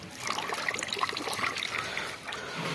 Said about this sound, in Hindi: ठहर जाओ चावल को धो लो।